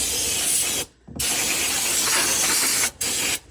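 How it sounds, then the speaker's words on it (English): Alcohol-based brake cleaner hisses from an aerosol can in three close bursts: a long steady spray, a short break, then a longer blast and two quick final squirts, bright and loud. "So this is brake clean. It's just alcohol in an aerosol form."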